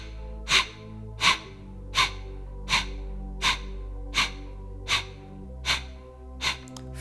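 Rapid, forceful yoga breathing through both nostrils, with nine sharp, evenly spaced bursts of air about one per second, close and clear over a quiet background hum.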